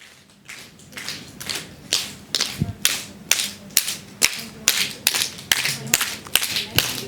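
A group claps together in a steady synchronized rhythm during a leadership session, roughly a dozen sharp, evenly spaced beats that grow louder and tighter, with faint voices underneath.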